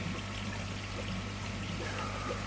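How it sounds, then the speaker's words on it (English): Water from a hose fed by a pump pours steadily into a koi pond, a continuous close trickling wash that holds evenly throughout with no talk over it. "we can hear water"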